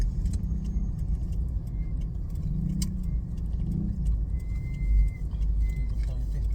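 Road traffic with cars passing in a city street, a continuous low rumble of engines and tyres with a swell of a nearer vehicle near the end, heard alone without talk.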